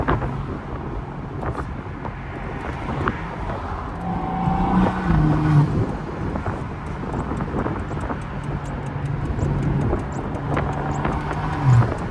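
A BMW M235i on a cold-start breakfast run, heard from inside while driving, its engine droning steadily with road and wind noise, a couple of swells in revs, and no talk.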